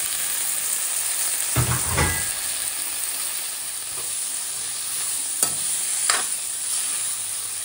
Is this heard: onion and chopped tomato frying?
yes